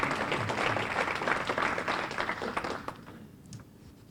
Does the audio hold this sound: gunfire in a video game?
no